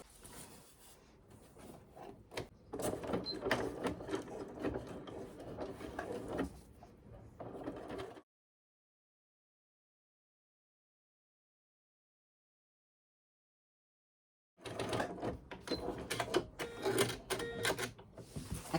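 A domestic sewing machine stitches synthetic fabric for a mini thermal bag, giving a steady mechanical whirring rattle in two runs separated by several seconds of silence, close and moderately loud.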